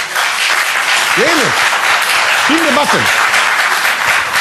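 An audience applauds steadily and loudly throughout, under a voice speaking briefly over the clapping.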